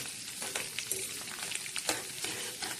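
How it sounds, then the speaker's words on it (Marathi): Curry leaves being stirred and fried in oil for a homemade hair oil, a steady crackling sizzle with soft scraping stir strokes recurring throughout, close and fairly quiet, with no voices. "कढीपत्ता चांगला हलवून घ्यायचा"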